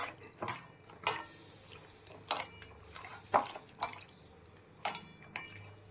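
Chicken satay pieces are mixed by hand with soy sauce and turmeric in a bowl, making a series of sharp, close clinks of utensils against the dish at an irregular rhythm.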